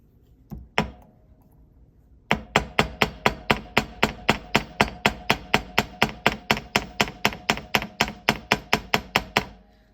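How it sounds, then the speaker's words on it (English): Rapid, even series of sharp metallic taps from light hammering on jewelry, around thirty in a row at a steady quick rhythm after a couple of isolated strikes, close and fairly crisp. "Maybe I will be very, very, very quiet. Quiet hammering."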